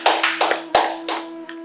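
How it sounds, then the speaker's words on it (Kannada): A quick run of about seven sharp hand claps, close and dry, with a short pause midway and no talk. "ಎಲ್ಲರೂ ಚಪ್ಪಾಳೆ ತಟ್ಟಿ."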